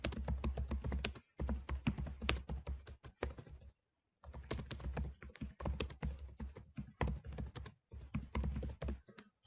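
Fast typing on a computer keyboard, close and steady, with dense clattering keystrokes broken by a few short pauses and no voices.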